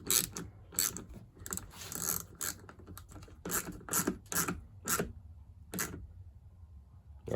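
A hand ratchet tightens the muffler bolts on a clone chainsaw. The sharp clicking comes in quick bursts with short pauses between them, close and clear with no talk.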